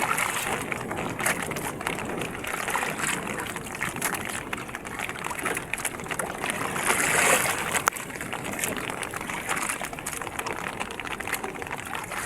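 Rough sea waves and steady rain around a small fishing boat at sea, a continuous broadband wash and patter with occasional louder surges, no talk.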